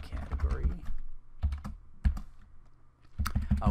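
Computer keyboard typing in short clustered bursts of key clicks separated by pauses, with low background noise underneath; a tapping flurry at the start and again near the end.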